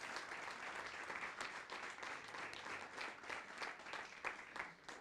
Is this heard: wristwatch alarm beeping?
no